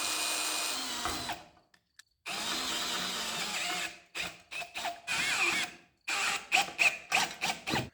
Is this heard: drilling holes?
yes